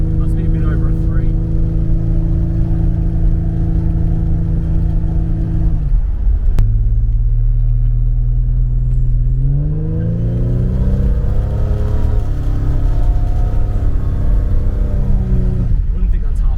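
A Holden VN Commodore V8 with a large torque converter revs at half throttle, a loud steady engine drone that dips, then climbs smoothly in pitch and settles before falling away near the end.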